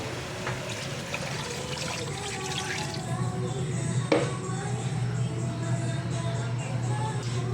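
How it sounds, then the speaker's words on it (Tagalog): Water streams steadily into a cooking pot of pork-leg sinigang, a continuous close pouring and trickling sound that carries on for several seconds. "Maglagay na tayo ng tubig."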